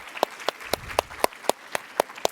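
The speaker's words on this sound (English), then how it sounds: "Let's give them a round of applause." Sparse, evenly spaced claps ring out at a panel discussion on rare-disease research, about ten sharp hits in two seconds with a thin, small-audience feel.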